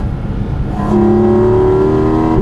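A high-revving Porsche GT4 RS engine wails close by, its note climbing sharply and holding a loud, rasping intake howl from the carbon airbox.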